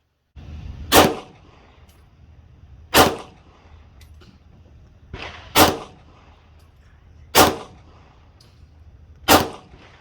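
Five sharp, loud pistol shots from a Beretta 80X Cheetah chambered in .380 ACP, fired one at a time at a slow, even pace with quiet gaps between them.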